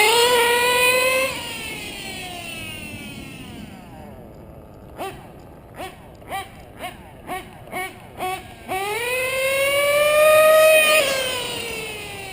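A Novarossi P5XL nitro engine in a modded RC car screams up and down in pitch at around three-quarter throttle, with a quick run of sharp blips in the middle, loud and close with no talking.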